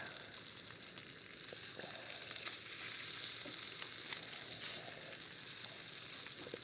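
Eggs and bacon fry in a Lodge cast iron pan on a camp burner outdoors, giving a steady bright sizzle with occasional faint pops and utensil taps.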